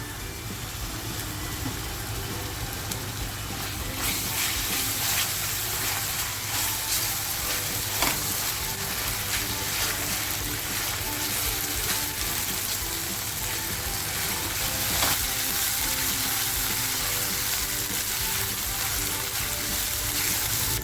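A ginger, garlic, coriander and chili paste sizzles in hot oil while surmai fish tawa masala is cooked. The frying noise is a constant dense hiss that runs steadily, with faint clatter and no talk.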